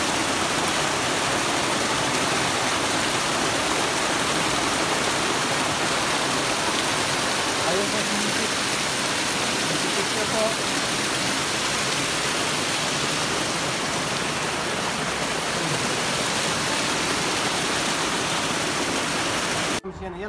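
A man-made waterfall in Al-Ula, Saudi Arabia, pours with a dense, unbroken rushing roar, loud and close, holding steady for the whole stretch before cutting off at the end.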